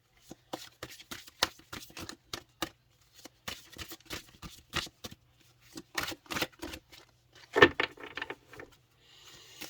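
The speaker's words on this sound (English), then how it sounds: "All right, we're going to shuffle one more time" Rapid riffling bursts of a card deck being shuffled, several quick flurries of papery flicks separated by short pauses, close and fairly clear.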